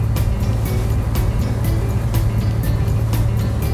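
A fishing boat's loud, steady engine rumble drones throughout as it leaves harbor, with rhythmic slapping and rushing water noise over it.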